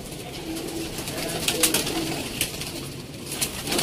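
Golden pigeons kept for pigeon flying in Sialkot coo in soft low repeated phrases close by, with light rustling and faint background noise.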